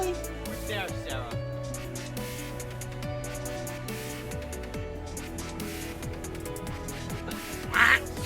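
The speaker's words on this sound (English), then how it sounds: "Hey, even the ducks out, huh?" Ducks quack outdoors in a brief burst near the end, partly masked by steady music and background chatter.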